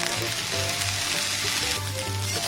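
Vinegar splashed into vegetable fried rice in a hot pan gives a steady, close sizzle of frying that holds throughout with no talk.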